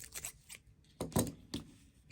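Scissors snip through crochet yarn with a few crisp close cuts, with short pauses between the snips.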